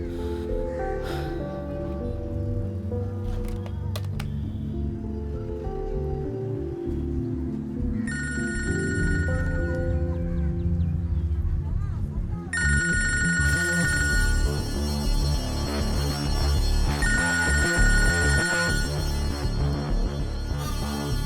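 A telephone rings repeatedly in a Malayalam film scene, its electronic ringtone chiming in bursts over a low background score and rising in intensity toward the end.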